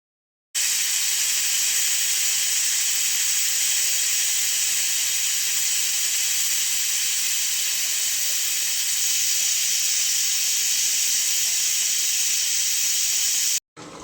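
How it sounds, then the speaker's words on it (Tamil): Pressure cooker on a stovetop venting steam while cooking mutton curry, a loud, steady hiss that holds unbroken for about thirteen seconds and then cuts off abruptly. "குக்கர் மூடி போட்டு விசில் விடணும்."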